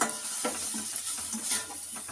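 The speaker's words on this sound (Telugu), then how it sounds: "కాసేపు లైట్గా వేగనిస్తాం." Onion and carrot lightly fry in a pan for a sprouted black-eyed pea snack, giving a soft sizzle with a few stirring scrapes and utensil taps.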